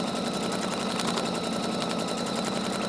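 A sewing machine running continuously during free motion embroidery stitching, a steady rapid mechanical whirr and clatter at even volume throughout, no voices.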